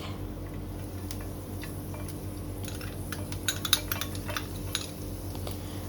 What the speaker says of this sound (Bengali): তো অ্যাড করছি ক্রাশড গার্লিক।